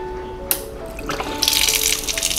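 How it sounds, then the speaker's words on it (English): Water splashes from a solar-powered garden water pump switched by a cycle timer relay set to run 5 seconds on and 5 seconds off, starting with a click and then a steady moderate spray and splash that runs on alone. "See, the water is splashing for 5 seconds and stop 5"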